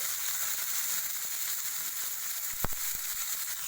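Coriander leaves and cumin seeds roast in a pan with a soft, steady sizzling hiss, and near the end a few sharp crackles and pops stand out briefly.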